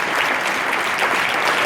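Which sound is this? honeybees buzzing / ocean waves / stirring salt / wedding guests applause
wedding guests applause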